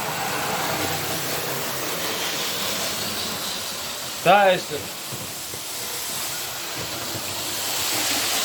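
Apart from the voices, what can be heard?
model Hitachi 395 train running on model railway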